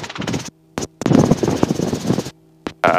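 A Robinson R22 helicopter engine during a simulated engine failure in flight: a steady low mechanical drone with a humming tone, broken by loud, rough bursts of broadband noise that come and go.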